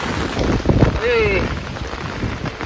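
Heavy rain pours down in a loud, steady roar as gusts of wind sweep through, with a brief high whistle rising above it.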